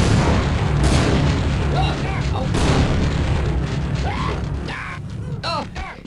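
Heavy booming explosions in a Half-Life 1 mod game roll out in a dense, loud rumble, with scattered blasts and a voice speaking over the noise.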